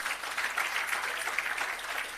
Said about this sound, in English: Can we give our High Commissioner a big round of applause?